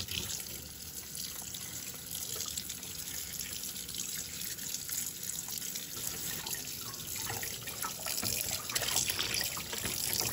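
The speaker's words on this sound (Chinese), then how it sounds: "就可以把猪肚放到流水下去对其进行冲洗了" Pork stomach is rinsed under a running kitchen tap, a steady splashing stream with trickles and drips that carries on unbroken for about ten seconds, close and moderately quiet, with no talking.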